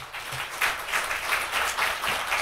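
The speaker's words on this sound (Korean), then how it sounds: "우리 큰 박수로 강사님을 모시겠습니다" A church congregation at a Sunday evening service applauds to welcome a guest lecturer, a steady, moderately soft wash of many clapping hands in a hall.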